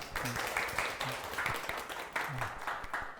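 A small audience at a community activists' forum claps, light scattered applause with a few clear individual claps, while voices murmur and talk over it at moderate level.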